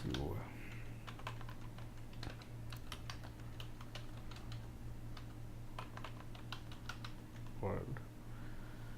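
Typing on a computer keyboard in a quiet room, a quick irregular run of close, crisp key clicks over a low steady hum, with a voice briefly audible.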